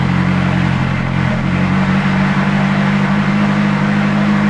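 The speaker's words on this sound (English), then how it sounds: "then the start engine, stop engine button is just right here in the middle. So we'll press that" A McLaren 570S engine fires up and settles into a loud, steady, deep idle that fills the space without any talking.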